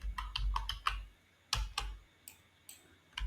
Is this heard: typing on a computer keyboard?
yes